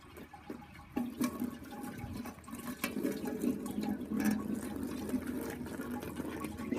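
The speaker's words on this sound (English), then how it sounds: "Just onto the sparge now." Sparge water runs and trickles through grains in a Bulldog Brewer during a traditional bock brew, a steady soft watery gurgle with occasional sloshes from gentle shaking, close and quiet with no talk.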